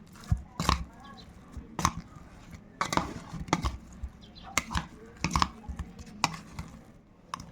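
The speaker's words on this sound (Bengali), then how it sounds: "এই সবগুলো দিয়ে এবার আমি ভালো করে এই সোয়াবিনের সঙ্গে মাখিয়ে নেব" Large soybean chunks are worked together with a beaten egg by hand, producing soft, irregular squelching and slapping bursts close up, with short pauses between handfuls.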